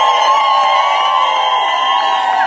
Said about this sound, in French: Est-ce que nous pouvons pousser les cris de joie?